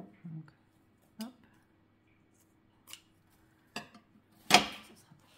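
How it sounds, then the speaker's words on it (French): Scissors snipping through ribbon while making a scrapbook card, a few short separate cuts with quiet pauses between them, close up and fairly soft. "on va venir couper le ruban qui va être des fois trop long"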